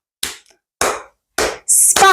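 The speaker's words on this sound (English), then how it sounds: "Clapping works really well here because it sets the rhythm." Hands clap three times at a steady beat to set a song rhythm, loud and close with silence between, followed by a voice beginning to speak.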